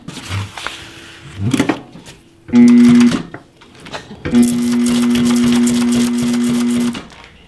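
A large sewing machine stitches Velcro tabs onto a blackout cover in several bursts, the longest running steadily for about two and a half seconds, with short clunks and handling noises in between.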